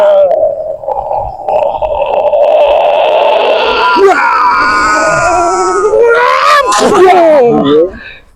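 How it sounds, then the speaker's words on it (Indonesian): A person screams loudly and at length in shrill, wailing cries, rising into sharper strained bursts near the end before cutting off. "Jeritan."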